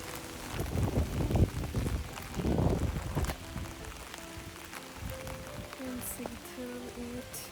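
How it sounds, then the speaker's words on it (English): Rain pattering steadily while walking outdoors in Copenhagen along paths by a lake, with louder bursts of rustling and footsteps early on and a soft, continuous patter throughout. "In Copenhagen, walking, it's bloody fucking raining."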